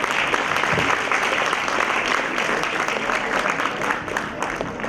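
An audience at a university induction programme gives a round of applause, a dense, sustained clatter of many hands at an even level, slightly thinning toward the end.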